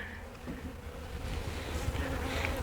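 Honey bees buzzing around a hive, a faint, steady drone of many wings with small swells as individual bees pass close, no voices.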